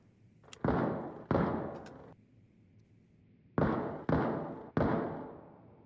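Gunfire in the shooter game Arena Breakout Infinite, six sharp booming shots with short decaying tails, two early and three in quick succession later, moderately loud against quiet background.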